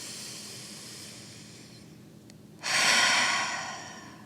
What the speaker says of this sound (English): Again, inhale, fill up. Open mouth, exhale. And last, inhale.